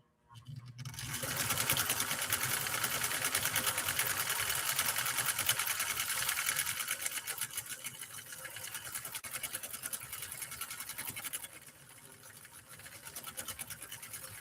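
A Nordic Husqvarna Automatic sewing machine stitches a Christmas star decorative pattern with a steady, fast needle clatter. The sound is close and continuous and drops slightly toward the end. No one speaks.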